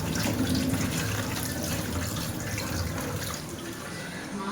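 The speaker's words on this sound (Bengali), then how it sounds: "এখানে মাংসটাকে ভালো করে ধুয়ে নিচ্ছি, ভালো জলেই ধুয়ে নিচ্ছি মাংসটা" Mutton pieces being washed under running water in a village-style kitchen: a steady, close rush of tap water splashing into a sink or bowl, continuous throughout with slight shifts in flow.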